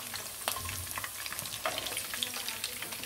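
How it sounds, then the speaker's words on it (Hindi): A batch of chicken Manchurian deep fries in hot oil with a steady, bubbling sizzle, close and moderately quiet, punctuated by occasional sharp pops and stirring clinks. "इसी तरह मैं वो दूसरा वाला बैच भी इसमें डाल के फ्राई कर लूँगी"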